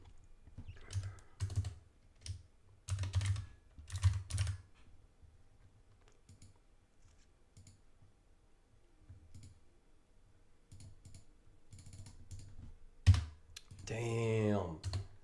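Typing on a computer keyboard during a live futures-trading session, with bursts of close key clicks separated by pauses and a brief spoken remark near the end.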